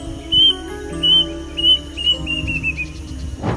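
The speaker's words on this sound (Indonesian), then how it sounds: "Burung berukuran sedang ini suka mencuit panjang di tengah keheningan dengan bunyi." A medium-sized wik-wik bird in Indonesia gives a run of long, high, thin whistled calls, repeated about five times in a slow rhythm and fairly clear over a low background hum.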